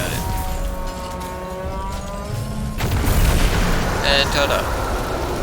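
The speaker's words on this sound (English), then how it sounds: "and then shoot a rocket at it" Rocket launch and blast in the Destiny video game, a rumbling whoosh and booming burst over a steady drone, with a brief tonal chime afterward.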